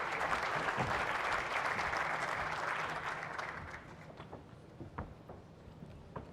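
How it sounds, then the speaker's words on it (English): An audience at an African innovation business conference applauds a speaker, a dense wash of clapping that holds for about three seconds before fading into a few scattered claps and quieter room noise. "You can give him a round of applause."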